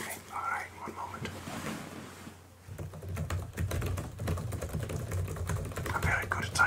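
Soft, close fingertip typing on a computer keyboard in a quiet ASMR room, a steady patter of light clicks with whispered speech at the start and end.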